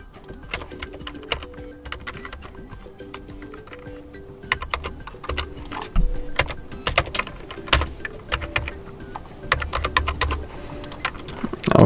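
Someone types a password on a phone's keypad, a run of quick, irregular taps and clicks close up, with short pauses between bursts.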